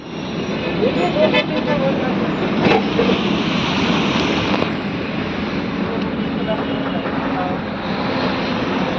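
An overloaded truck hauling stone from a quarry on forest land rumbles past with a heavy, continuous engine drone, loud and close, while voices talk over it.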